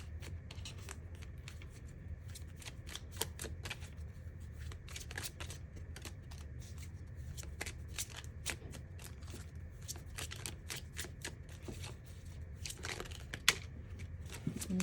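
Affirmation cards being shuffled and handled over a steady low background hum: a continuous riffle of quick papery flicks and taps that runs throughout with no pauses, and no voices.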